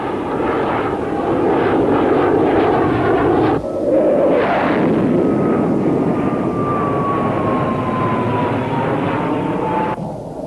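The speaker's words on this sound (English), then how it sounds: "Somewhere in that airspace, F-15s peel off for an interception." F-15 fighter jets roar overhead in a loud, broad engine rush, briefly cut and resumed, with a falling whine as one peels away.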